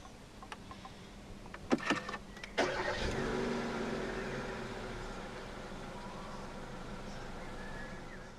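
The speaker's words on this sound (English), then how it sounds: "Put your foot on the brake and press the start button to the left of the steering wheel." A 2016 Kia Rio 1.4 SX hatchback is push-button started: a few clicks, then a brief cranking whir as the engine catches and settles into a quiet, steady idle, heard from inside the car.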